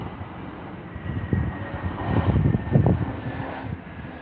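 An airliner at Heathrow airport, an Air Portugal flight, approaches the runway to land, its engine roar a steady broadband rumble that swells through the middle and then eases, heard from a distance outdoors with no talking.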